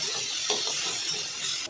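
A spice paste with turmeric and salt sizzles and fries in a pan, giving a steady close hiss with a few faint stirring scrapes and no talking.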